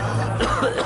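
A single short cough from a person in a domestic comedy scene, close and fairly loud, over a low steady hum.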